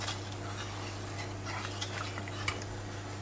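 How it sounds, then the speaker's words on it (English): A spoon stirs a toffee caramel mixture in a pot over medium-high heat for a toffee cake, giving soft continuous scraping with light clinks over a steady low hum, alone and close. "make sure I stir continually, because this can stick to the bottom of the pot, especially after it starts boiling"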